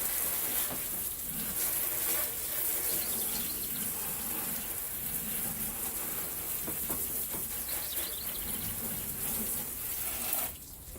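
Garden hose spraying water across a car engine bay during a rinse after degreasing, a continuous loud hissing spray that runs steadily throughout and cuts off just before the end.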